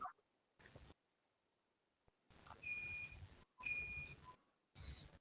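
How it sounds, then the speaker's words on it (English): A UPS backup power unit beeps in repeated short electronic tones, a few evenly spaced bursts against quiet room noise, fairly close and clear with no talking. "that's my UPS, which is beeping"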